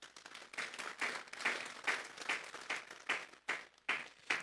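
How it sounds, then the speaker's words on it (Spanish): A church congregation claps in rhythmic unison, about two claps per second in a steady pulse of sharp bursts, moderately near and fairly quiet. "Vamos a darle un fuerte aplauso por el Señor."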